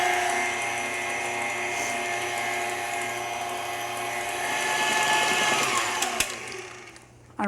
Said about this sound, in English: we'll continue whisking until nicely and well incorporated